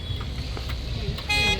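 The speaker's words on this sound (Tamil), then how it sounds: "செம்ம டிராஃபிக்கில் மாட்டிகிட்டு இருக்காங்கண்ணா." Road traffic in a jam on a trip near Mettupalayam and Gudalur, with a continuous low vehicle rumble and a short car horn toot near the end, under nearby talk.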